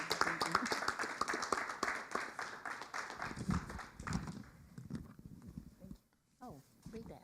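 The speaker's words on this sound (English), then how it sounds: "Give her a round of applause." Clapping at a city council meeting, a round of applause in recognition of National Fair Housing Month, fairly close and dense at first, then thinning and fading as voices talk over it and after it.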